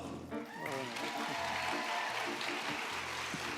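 An audience applauds after the opening number of a rising stars performance competition. A broadband wash of clapping holds steady for several seconds while a voice speaks over it.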